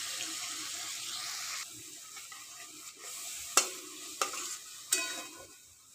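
Fried prawns and coconut milk go into a pan for Bengali prawn malai curry, with a soft steady sizzle under wet stirring, then three sharp clinks of a spoon against the pan near the end.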